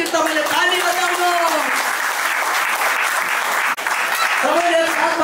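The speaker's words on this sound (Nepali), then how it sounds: "जोरदार एकचोटि तपाईँले ताली बजाउनु" Loud, sustained applause from a congregation at a Christian church wedding, dense clapping filling the room for several seconds while voices carry over it.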